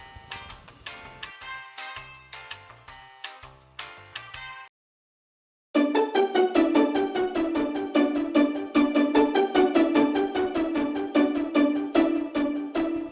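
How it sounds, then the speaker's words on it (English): Bright, short plucked synth notes from the FL Studio stock plugin Flex in a quick repeating melody, with a brief pause before the pattern returns, fuller and louder on two octaves. "I got this pluck from the stock plugin Flex."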